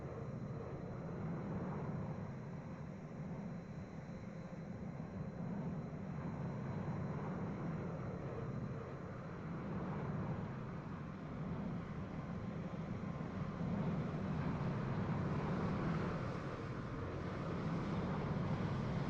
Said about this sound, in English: Oh, there's a JetBlue landing.